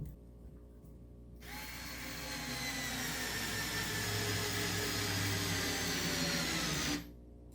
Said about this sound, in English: let's see if this electric screwdriver has enough torque to send this 1 5/8" number 8 wood screw into this